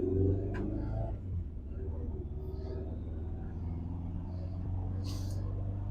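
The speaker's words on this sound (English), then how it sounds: "I'm gonna take it down the road real quick and try and get it through all the gears" A faulty Subaru STI, smoking and shooting coolant out the exhaust, rumbles steadily with a low engine drone from inside the car as it is driven down the road, while a voice talks over it.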